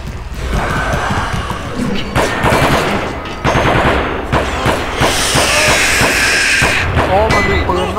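Dense automatic gunfire in the Aliens vs Predator video game, rapid loud bursts running almost the whole time, with a brief dip near the middle and a voice heard faintly under the shots.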